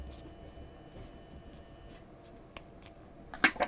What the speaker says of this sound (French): Donc avec des ciseaux ménagers, vous coupez l'excédent du zip en dessous.